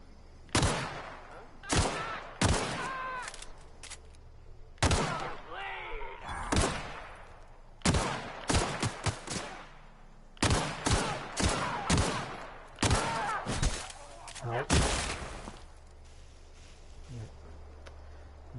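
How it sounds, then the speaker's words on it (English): Gunfire in The Outer Worlds, a series of sharp, loud shots fired in quick clusters with short gaps and echoing tails. "So let me try and shoot this guy."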